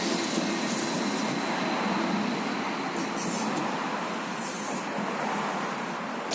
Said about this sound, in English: let's take a look at the Kiev Express tram.